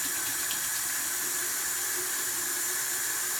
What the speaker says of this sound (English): you can heat up your hot water in the faucet